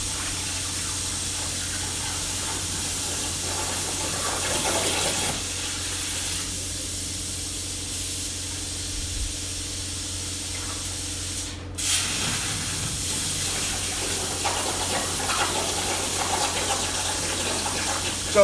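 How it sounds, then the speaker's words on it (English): Water spraying steadily at a plasma cutting table in a fabrication shop as a water mess is cleaned up, a continuous hissing spray with a brief pause and shifts in intensity, close and loud, with no talk. "you'll get to watch me clean my water mess up."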